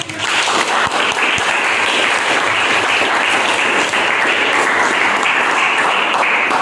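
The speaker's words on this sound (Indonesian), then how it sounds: "Tepuk tangan untuk kita." Loud, dense applause from a classroom of students, sustained evenly throughout with many overlapping claps.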